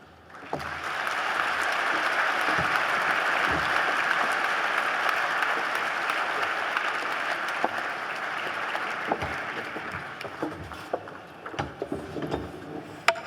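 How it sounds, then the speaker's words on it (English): Audience at a university scholarship ball breaks into sustained applause that swells, holds for several seconds, then thins out into scattered claps and stray noises. "One more quick round of applause for Natalie."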